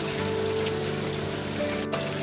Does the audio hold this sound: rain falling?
yes